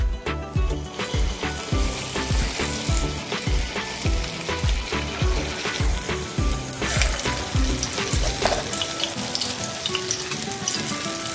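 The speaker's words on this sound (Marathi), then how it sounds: "तर आता आपण यात भजी सोडून घेऊयात। तेल गरम झालेलं आहे छान।" Urad dal fritters (bhaji) frying in hot oil in a kadhai, a dense continuous crackling sizzle with repeated sharp spatters and pops, close and unbroken with no talk.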